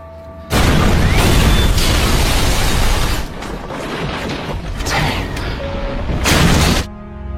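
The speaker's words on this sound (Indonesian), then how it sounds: "Tiba-tiba saja rumahnya Jonas dan Natalie meledak ketika mereka berdua masuk ke dalam rumah" A house blows up in a film: a sudden heavy blast starts early and rolls into a long roaring, crackling rumble of debris and fire, swelling again near the end before cutting off abruptly.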